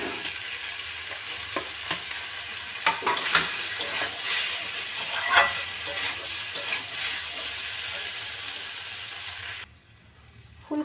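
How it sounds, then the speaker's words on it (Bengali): Cauliflower and fried potatoes are stir-fried in spiced mustard oil, a continuous sizzle broken by repeated scraping and knocking of a spatula against the pan, ending in near quiet. "ফুলকপিটা খুব ভালো করে আমি কষিয়ে নিয়েছি"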